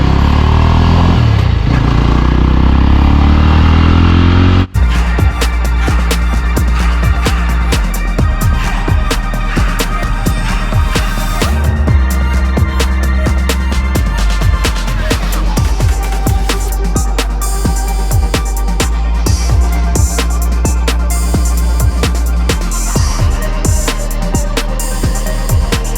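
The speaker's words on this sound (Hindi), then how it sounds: "पीछे फेंक रही है बाइक, पिकअप इसका ज़्यादा तेज़ है तो पीछे फेंकती है एकदम से" A Yezdi Roadster motorcycle accelerates hard, its engine roaring loud and continuous with rising revs and gear changes, with wind and road noise close by and no talk.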